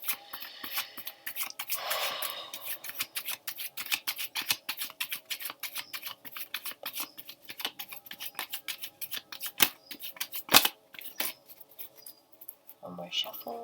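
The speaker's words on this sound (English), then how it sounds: "One more shuffle." Tarot cards being shuffled by hand, a dense run of quick papery flicks and riffling clicks, with a louder burst of riffling early on and scattered sharper snaps throughout.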